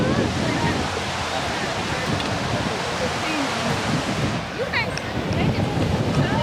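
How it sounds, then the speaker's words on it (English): Strong wind buffets the microphone at Myrtle Beach while ocean surf rushes and crashes continuously close by, with a person speaking over the roar. "It is very windy out here, y'all."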